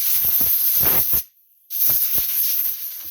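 Compressed air from a hose blasts at the air filter of a Husqvarna zero-turn riding mower, two loud, close hissing bursts separated by a short pause.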